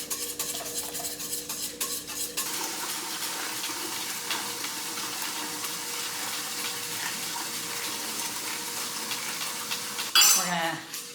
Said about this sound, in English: a lot of whisking